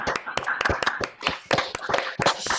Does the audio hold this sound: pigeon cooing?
no